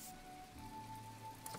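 Light rain patters steadily in the video game My Time at Portia, faint and even, with a thin high tone running through it and no voices.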